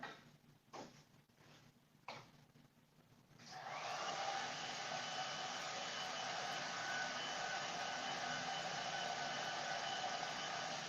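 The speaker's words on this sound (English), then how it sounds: "now let's hit this with a hairdryer" A few scattered knocks and handling sounds, then a hair dryer switches on and blows over milk-painted furniture with a steady, loud whooshing roar until the end.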